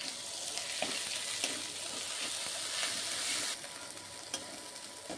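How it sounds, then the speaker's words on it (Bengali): Kashmiri chilli, cumin and coriander powders sautéing in a pan, a dense continuous hiss of frying with light intermittent stirring clicks, close and steady, and the sizzle eases slightly toward the end. "দিয়ে দেব ধনে গুঁড়ি পরিমাণ অনুযায়ী, দিয়ে ভালো করে কষিয়ে নেব।"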